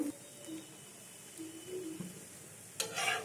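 Gola ruti, a batter flatbread, frying in a pan: a soft, steady sizzle with faint stirring, then a brighter, louder burst of crackle near the end. No voices.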